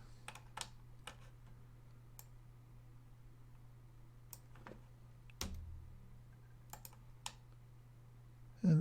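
Sparse computer keyboard key presses while modelling in Blender 2.81, single sharp clicks spaced irregularly over a quiet steady hum, with a soft mouse click and a small thump near the end.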